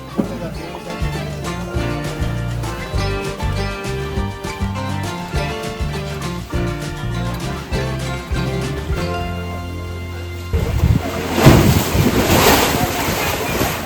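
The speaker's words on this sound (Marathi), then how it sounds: "कधी भरतीचं पाणी इकडे येतं आहे जोरात आतमध्ये" Tidal seawater surges into the Bamanghal rock cleft at Hedvi on the Konkan coast, a sudden loud rushing burst of water near the end that follows a long stretch of background music.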